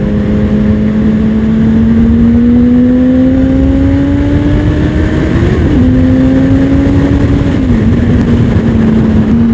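A Honda Fireblade CBR 1000 RR Repsol sportbike accelerates hard and continuously, its engine note climbing steadily in pitch through the mid-range with two brief dips at gear changes, loud and close with heavy wind rush throughout.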